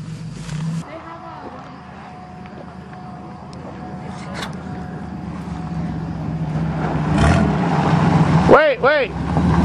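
A Buick engine on a farm runs steadily right after starting, a low continuous rumble with excited voices talking and cheering over it.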